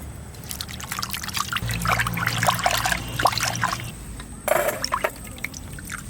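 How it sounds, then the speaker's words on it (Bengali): Mint and coriander leaves are washed together in a bowl of water while making biryani, giving a steady close trickle and splash of water with a brief louder swish near the end, with no talking. "পুদিনা পাতা আর ধনে পাতা ধুয়ে নেব একসঙ্গে"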